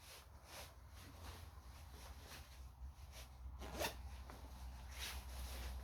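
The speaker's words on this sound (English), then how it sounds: "Now we're gonna zip it up." Tidewe heated jacket being zipped up, a quiet scratchy zip with a sharper pull near the middle, over soft rustling of fabric against a low background hum.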